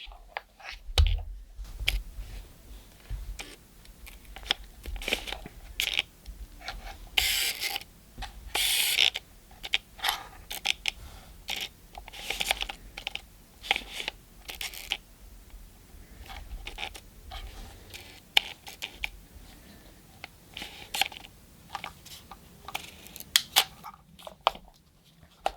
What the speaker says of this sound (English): I was using the focus thing a little bit to move it, but other than that, most of it was autofocus.